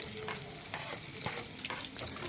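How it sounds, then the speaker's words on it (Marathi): Onions sauté in oil with bay leaf and curry leaves, a steady sizzle broken by several distinct scraping stirs of a spoon against the pan, close and alone without talk. "कांदे टाकल्यानंतर या कांद्यांना छान असं परतून घ्यायचं आहे"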